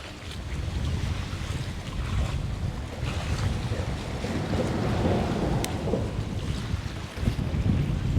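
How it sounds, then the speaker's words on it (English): Strong wind gusts at the California Aqueduct and buffets the microphone, making a continuous loud roar of rumbling low noise that surges in waves, with no speech. "It's too windy."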